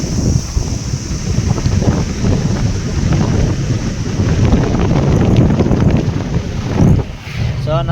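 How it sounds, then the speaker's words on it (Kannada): Wind at a hilltop viewpoint in green forested hills rumbles against a phone microphone in a loud, continuous gusting roar, with voices faintly talking beneath it. "ಗಾಳಿ ಸೌಂಡ್ ಬರ್ತಾ ಇರುತ್ತೆ"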